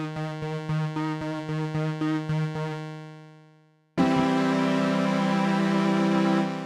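Layered synth notes from a Cherry Audio Crumar DS2 software synthesizer strike in a steady rhythmic pattern, fade out, then a thick sustained chord of stacked voices swells in loudly and holds.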